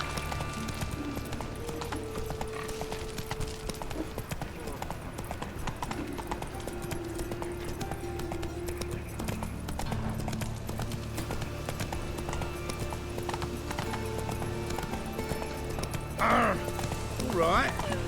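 Roach the horse from The Witcher 3 trots and gallops with continuous rhythmic hoofbeats under a music bed, with a brief whinny near the end; people talk over it at times.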